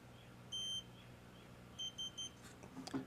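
A small electronic keypad on a hidden safe installed in a Chevrolet Silverado gives faint, thin beeps while being programmed: one longer tone, then a short pair, followed by soft clicks and handling.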